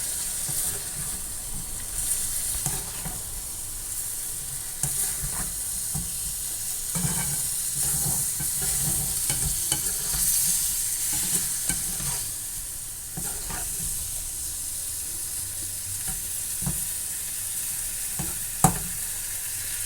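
Prawns frying in a pan as their water cooks off with pepper powder, a constant sizzle and hiss broken by scraping stirs and clinks of the spoon, close and steady throughout.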